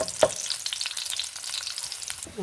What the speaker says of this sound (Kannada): ಒಂಚೂರು ಎಣ್ಣೆ ಹಾಕೊಂಬ. ನೋಡಿ, ಬೆಳ್ಳುಳ್ಳಿ ಹಾಕಂತ ಇದ್ದೆ.